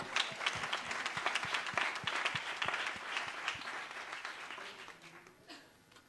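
A room at a press conference for the Grand Raid race breaks into applause, many hands clapping fairly near, then the clapping thins and fades out toward the end.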